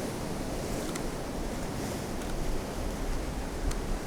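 Big waves on a stormy coast roar in a broad, continuous wash, mixed with gusting wind buffeting the microphone and a few faint ticks, fairly quiet and without talk.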